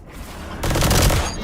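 A video game gun's magazine is emptied in one rapid automatic burst, loud and dense, lasting under a second after a brief quieter lead-in.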